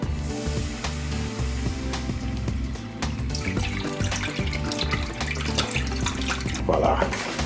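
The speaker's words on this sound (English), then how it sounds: "Now we're going to pour this entire container of the vegetable broth." A whole quart of vegetable broth is poured from its container into a pot on the stove. The pour makes a steady, gurgling, splashing liquid stream, close and continuous for several seconds, with faint speech beneath it.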